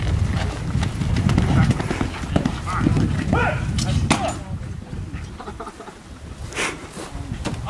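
Horse hooves clip-clopping in quick irregular steps, fairly close, mixed with people talking and a rooster or birds in the background.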